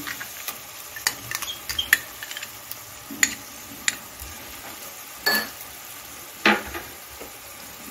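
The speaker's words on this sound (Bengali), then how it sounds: "এটাকে একটু ভালো করে কষিয়ে নিচ্ছি।" A spatula stirs spice masala with melon seed and cashew paste in a pan, giving scattered scrapes and knocks over a faint low sizzle.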